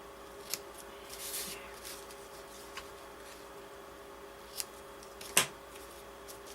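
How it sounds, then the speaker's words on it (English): Scissors snip the tails off a paper birthday card in a quiet room, with a few faint, separate cuts and one sharper snip near the end. "now I'm going to cut off the tails"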